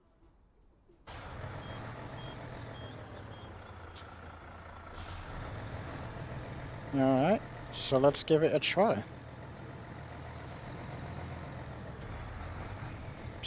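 A Mercedes-Benz truck in the off-road game SnowRunner idles steadily, then gives a few short loud bursts of air brake hiss and mechanical clatter midway before settling back to a low engine rumble. A person talks over it.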